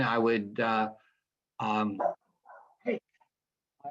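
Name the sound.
dog barking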